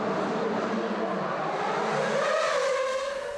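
Formula 1 cars from the 2009 season racing at Monaco, a sustained loud high-pitched engine wail with a rising pitch as a car accelerates past, continuous throughout.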